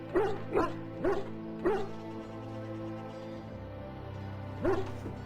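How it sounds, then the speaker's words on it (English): The injured dog in Dragon Age: Origins gives four short whimpering barks in a quick cluster, then one more after a pause, all close and distinct over a low steady background hum. "Now I can treat the dog properly, poor fella."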